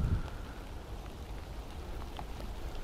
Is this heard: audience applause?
no